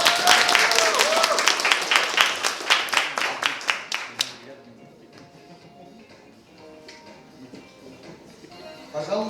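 Applause at a science slam for young researchers, clapping from the audience that is strong at first and then fades out after about four seconds, leaving quiet room noise and faint talk.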